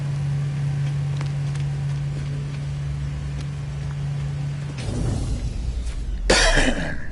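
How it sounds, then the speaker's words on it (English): A person playing No Man's Sky in PSVR on a PS4 Pro gives a single sharp, close cough near the end, after several seconds of steady low hum and background noise. "Sorry about all the coughing."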